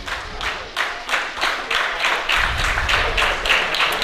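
A wrestling crowd at a tag team match claps in a steady rhythmic beat, with cheering swelling underneath midway through.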